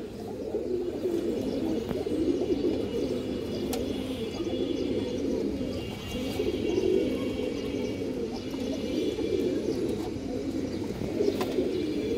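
Pigeons coo continuously nearby, a low rolling warble layered from several birds, steady throughout with a few faint chirps and no talking.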